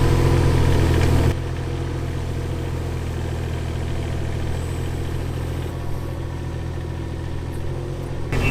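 A mini excavator's diesel engine runs steadily and close during a residential water line dig, a continuous low rumbling drone with a louder surge at the start, then an even idle-like hum.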